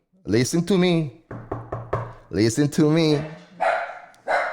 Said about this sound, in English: if you hear my dogs on the background